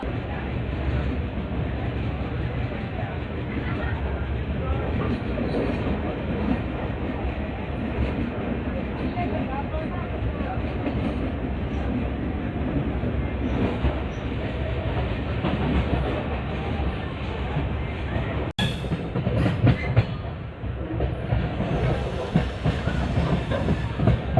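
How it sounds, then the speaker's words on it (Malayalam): The Tejas Express passenger train runs along the rails with a continuous heavy rumble and rhythmic clatter of wheels, loud and close throughout. "തേജസ് എക്സ്പ്രസ് എന്ന് പറയുന്നത് ഭയങ്കര വലിയ ലക്ഷൂറിയസ് ട്രെയിനാണ്"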